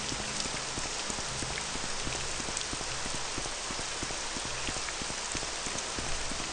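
Steady rain falling through a ceiling inside a building in the video game Morrowind, a dense continuous patter with scattered sharper drips, heard alone.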